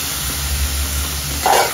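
Sliced onion frying in a pan for a chicken masala, a steady close sizzling hiss with a low hum beneath, swelling slightly at the end.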